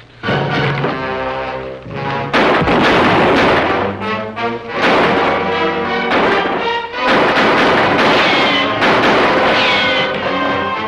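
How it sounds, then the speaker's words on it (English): Loud, close gunshots from revolvers in an old western quick-draw gunfight ring out in a rapid irregular volley, sharp cracks with booming echoes filling the whole stretch without speech. "At the count of three, you'll both go for your guns."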